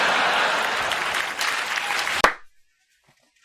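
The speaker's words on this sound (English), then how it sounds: "I actually heard a clap that time." Crowd-like applause runs for about two seconds and ends with one sharp, close clap, followed by near silence.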